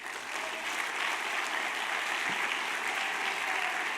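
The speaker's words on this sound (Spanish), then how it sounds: "Denle un aplauso a Jesús." Congregation clapping steadily in church, a dense, continuous wash of applause filling the space throughout at a fairly loud, even level with no voices over it.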